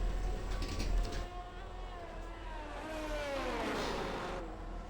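Race cars drive out onto the track on medium tyres in a Belgium round of a racing video game. Their engines hum and rise in pitch at moderate volume, with no voices.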